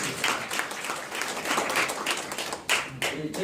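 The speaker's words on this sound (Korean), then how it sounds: "박수 좀 부탁드립니다." A seated audience at a forum lecture claps steadily throughout, a warm, even patter of many hands with a few sharper individual claps standing out near the end.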